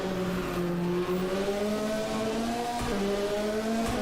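A Ford Escort Cosworth race car screams up a hill climb course, its engine holding a steady high-revving note with gear-change dips, heard loud and close with no talk.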